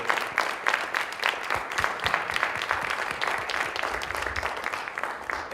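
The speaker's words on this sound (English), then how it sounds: "Give these guys a round of applause" Audience applause at a conference closing ceremony, a dense, steady clapping from a crowd that carries on without letup for several seconds.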